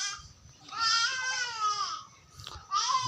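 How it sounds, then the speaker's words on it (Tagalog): Goats bleat on a farm, several wavering, drawn-out cries close by, one long call followed by shorter ones, with faint low background noise beneath. "Madaming kambing."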